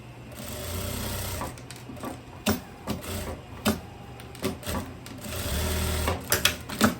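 Sewing machine stitching a seam on tailoring fabric for a long vest, running in a steady whir, then in short bursts of rapid stitching with brief stops between, then steady again, close and clear.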